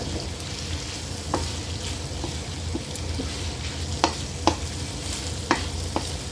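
Chicken gizzards sizzle steadily in a pan after a splash of soy sauce, with a constant frying hiss and occasional sharp scrapes and taps of stirring, close and loud.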